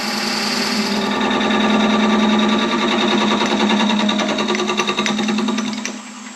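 A power drill whirs loudly and continuously, its bit grinding with a rapid rattling pulse before the motor winds down and stops.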